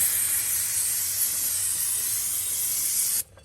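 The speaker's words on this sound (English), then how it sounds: "we want to go ahead and soak it down with some brake clean" Brake cleaner sprayed onto a new front brake rotor of a 2001-2005 Kia Sedona, one loud continuous close hiss lasting about three seconds before it cuts off abruptly, no talk.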